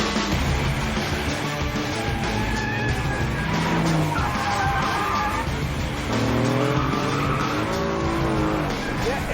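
An Aston Martin Vantage with an electronic differential spins its tires under power, long rising and falling squeals and skids over a loud, roaring engine heard close by.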